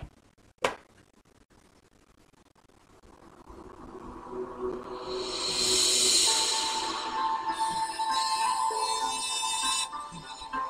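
Copyright-free background music track with a soft ambient swell that builds gradually after a sharp click, brightening into a sustained shimmering texture that holds steady to the end.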